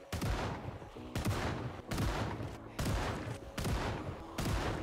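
Gunfire in the zombie survival video game Project Zomboid, five evenly spaced loud shots, each with a booming echoing tail, fired one after another.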